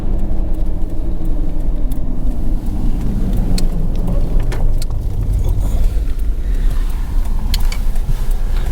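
Loud, continuous low rumble of trucks speeding down a mountain road, engine and tire noise swelling and passing close by with no voices.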